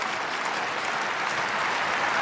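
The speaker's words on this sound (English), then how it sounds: "I hear the crowd roaring her on." An indoor arena crowd at a women's high jump final roars and claps for a young jumper's third and final attempt, a dense, loud, unbroken wash of applause and cheering with no voice standing out.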